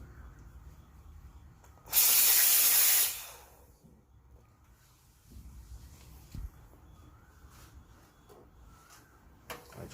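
A Quick Mill espresso machine's group head purges in one loud, steady burst of hissing steam and water lasting about a second, followed by quieter clinks and handling sounds.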